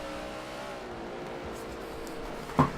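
Race cars in a racing video game drone steadily at a distance as the field runs together, with a brief sharp spike near the end.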